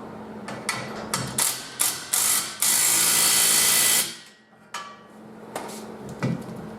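An impact wrench rattles in short bursts on a Jeep Wrangler YJ rear bumper bolt, then hammers in one long sustained run before stopping, followed by a few scattered clanks and taps nearby.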